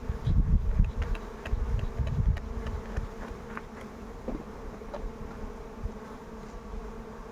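A dense, steady insect buzz of many honeybees at a hive being smoked and checked, louder in the first few seconds, with low rumbling handling noise underneath.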